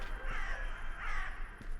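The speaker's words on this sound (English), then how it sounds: "Sounds like there's a lot of crows." Crows caw in the horror survival video game DarKnot: two drawn-out raspy calls, close and fairly loud, over a low rumbling ambient background.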